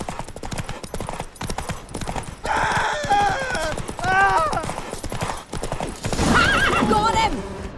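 Roach, Geralt's horse in The Witcher 3, gallops with rapid hoofbeats and lets out several loud, shrill neighs and whinnies close by, with a voice briefly under the hooves.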